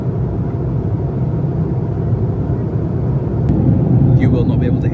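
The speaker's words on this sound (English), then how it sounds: "This plane's really loud, so we'll figure it out." An Aer Lingus airliner cabin on a flight from Manchester to Orlando holds a loud, steady engine drone, with some rising clatter and faint cabin sounds near the end.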